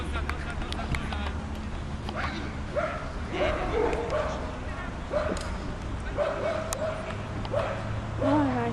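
A dog named Ginger barks and whimpers repeatedly in short yips and whines during a run in Slovenia, while people talk over it.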